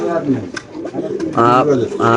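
Racer pigeons on a farm give close, fairly loud bursts of throaty cooing, two or three phrases in quick succession, mixed with someone talking.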